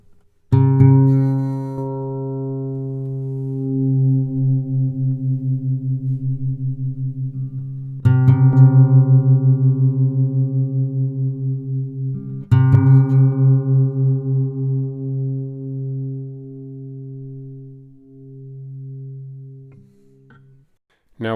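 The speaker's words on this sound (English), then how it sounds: "Listen to these two guitar strings go in and out of tune and the beating or pulsing" Two sustained plucked guitar notes ring together with a steady wavering pulse as they drift out of tune, restruck twice more, no talking.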